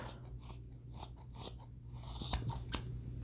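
Scissors snip through a cotton sock just above the heel, making a few short crunchy cuts close by, with no talking.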